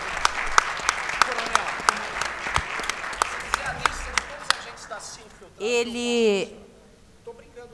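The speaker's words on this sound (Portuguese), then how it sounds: "vamos dar uma salva de palmas para o Sérgio" Audience at an internet forum session applauds a speaker with steady scattered clapping that fades out, followed by a voice speaking.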